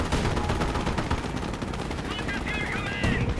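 Autocannon fire from a vehicle in a Company of Heroes battle, rapid continuous bursts of loud shots that fill the clip, with other battle noise layered in.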